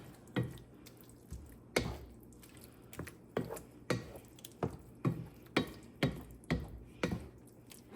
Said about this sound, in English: It's simmering, so I'm going to toss in about 1/4 cup of Parmesan cheese.